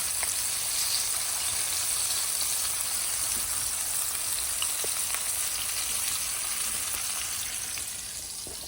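Oxtails sear in a hot pan with a loud, steady sizzle and crackle that holds throughout, dense and close with no voices over it.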